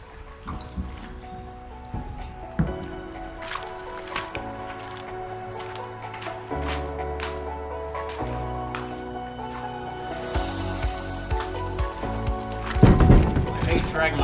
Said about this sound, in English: Dragging my kayak across the rocks like this.